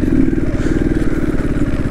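A motorcycle engine running close by, a loud, steady, throbbing rumble with a rapid pulsing beat and light mechanical clatter throughout, heard on its own without talk.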